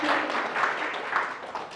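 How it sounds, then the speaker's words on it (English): Audience applause at a spiritual talk on Kriya Yoga, with steady clapping from a crowd that rolls on for under two seconds, fairly close and even in level. "It's okay to clap, go ahead."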